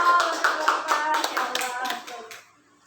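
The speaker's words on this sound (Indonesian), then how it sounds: "Ya, tepuk tangan dong." A group of people clapping hands together in a classroom-style gathering, a dense, close burst of applause that tapers off and fades to near silence at the end.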